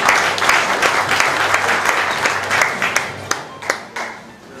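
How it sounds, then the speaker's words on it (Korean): Supporters at the opening of candidate Seong Su-seok's Icheon campaign office give a hearty round of applause to welcome the seniors' committee chairman, dense clapping that gradually thins into scattered last claps. "큰 환영의 박수 부탁드리겠습니다"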